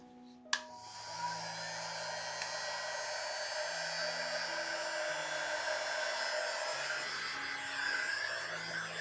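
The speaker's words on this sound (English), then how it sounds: "You just hold your heat gun down and go over it." A heat gun of at least 1500 watts switches on with a click and blows a steady, loud whooshing hiss with a high whine, running continuously at close range.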